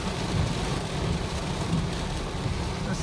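Heavy rain pours during a dark storm while driving a car in traffic, a dense continuous hiss and drumming on the vehicle with low rumble underneath, steady and loud with no voices.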